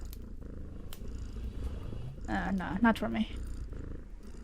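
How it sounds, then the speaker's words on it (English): A cat purring softly in the background while a person talks over it, the low rumble steady and faint throughout. "I love the sound of a cat purring."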